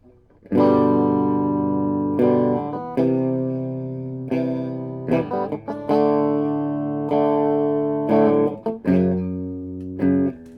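An electric guitar played through a Siren Pedals Juneau overdrive pedal plays sustained overdriven chords with a warm, gritty tone, several strums ringing out in a loose rhythm, close and loud.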